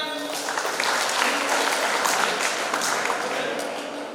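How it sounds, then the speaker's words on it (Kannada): An audience claps steadily at a giveaway event, dense continuous applause from many hands with voices mixed in throughout. "ಅಂಬಿಕಾ ಮೇಡಮ್ ಅವರಿಗೆ ಜೋರಾಗಿ ಚಪ್ಪಾಳೆ."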